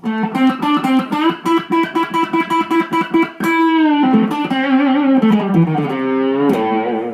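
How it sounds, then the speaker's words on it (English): Loud electric guitar with heavy distortion, played with a V pick, plays chugging repeated notes, then sustained chords ringing out, alone with no voices. "And here's some distortion tone for you."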